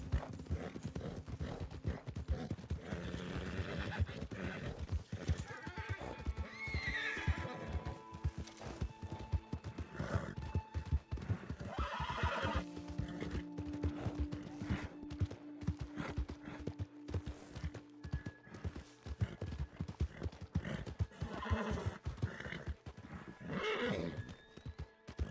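A horse in a video game whinnies and its hooves clip-clop in steady rhythm, moderately quiet, with other game sounds layered in and no talk over it.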